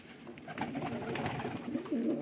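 Pigeons coo softly and continuously in a loft, a low murmuring drone of several birds close by with no talking over it.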